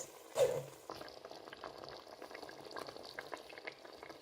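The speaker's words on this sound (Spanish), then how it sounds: "con esto vamos a terminar de guisar la carne antes de proceder a agregarle el pozole" Beef stewing in green salsa for green pozole, a steady bubbling simmer with a brief louder sizzle near the start, close and continuous with no talk.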